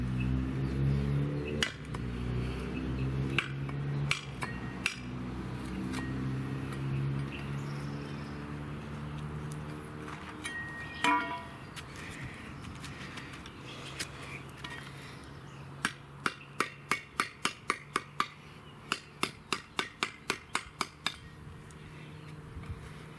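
A Cold Steel Special Forces Shovel blade chops into wood to cut a notch, sharp clinking strikes at first scattered and then in quick, regular bursts over a low background hum.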